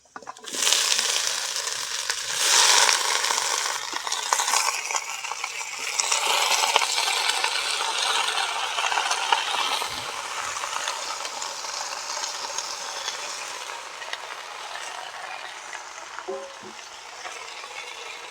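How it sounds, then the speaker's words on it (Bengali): Chopped Malabar spinach and potatoes hit a hot pan with a clattering rush, then sizzle and crackle steadily while frying, the hiss gradually easing over the long stretch. "এবার কেটে রাখা পুঁইশাক আলু দিয়ে দেবো"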